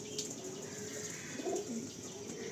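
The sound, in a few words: pigeons cooing, pigeons for sale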